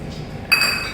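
A spoon strikes a small glass holding egg omelette mixture and masalas, one sharp bright clink partway through, close by, with a faint room hum around it.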